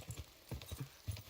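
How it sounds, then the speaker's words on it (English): Horses clip-clop in Kingdom Come Deliverance II, with soft, uneven hoof thuds landing in small clusters, quiet and somewhat distant. "Damn, there's horses."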